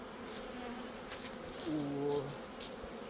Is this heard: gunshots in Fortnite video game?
no